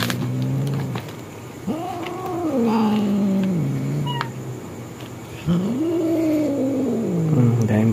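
Several angry cats caterwaul in long rising and falling yowls, two drawn-out wails separated by a brief lull, loud and close against quiet background noise.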